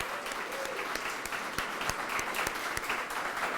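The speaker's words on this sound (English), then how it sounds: "A round of applause for all the winners tonight" A crowd at an awards celebration claps steadily, a dense patter of many hands applauding at moderate volume, with a few sharper claps standing out.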